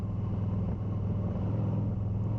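A Harley-Davidson motorcycle rolls along the road, its engine a steady low rumble with a throbbing, even tone throughout the short stretch, fairly close and alone without voices.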